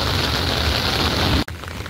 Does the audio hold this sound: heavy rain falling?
yes